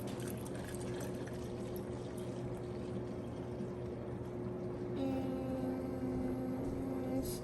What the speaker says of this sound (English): I'm gonna hold this while you pour it